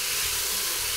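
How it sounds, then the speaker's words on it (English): Vegetables — carrots, onions and celery — saute in hot canola oil, giving a steady broadband hiss and sizzle with no breaks, fairly loud and close, with no voices. "So we start with just a little bit of canola oil, carrots, onions, and celery to our hot oil, and we'll give that a nice saute."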